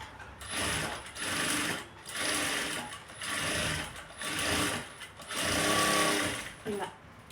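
A sewing machine stitches a blouse in six or seven long whirring runs separated by brief pauses, loud and close with a mechanical rattling drive.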